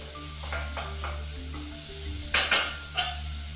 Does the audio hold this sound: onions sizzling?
yes